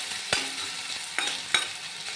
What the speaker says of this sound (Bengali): কড়াতে আলুটা দিয়ে দিচ্ছি